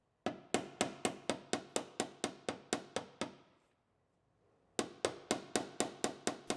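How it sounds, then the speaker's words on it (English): A hammer pounds the damaged sliding door panel of a Ram Promaster City van in rapid, even blows, a dozen ringing metallic strikes, a brief pause, then another quick run, close and sharp with no talking. "So we're going to hammer it all down."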